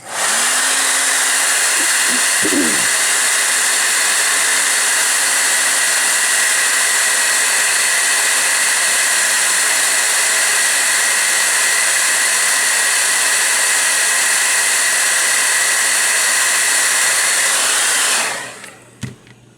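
A heat gun blows steadily at close range to soften sticky tape residue on a porous surface, a loud, unbroken roaring hiss lasting nearly twenty seconds before shutting off, with a brief click near the start.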